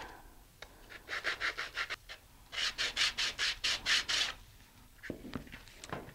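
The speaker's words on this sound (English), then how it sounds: "So we'll take some sandpaper and just sand down" Sandpaper rubbed by hand along the edges of a high-power rocket bulkhead, making two bursts of steady rhythmic rasping strokes, close and fairly loud, with a few lighter scrapes afterward.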